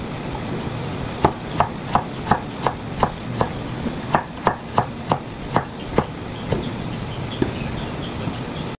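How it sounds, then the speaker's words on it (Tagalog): Knife slicing onion on a cutting board, a close, regular run of about fifteen crisp chopping taps at an even rhythm, tapering off into a few scattered cuts. "Nakakaiyak ng sibuyas, paghihiwa."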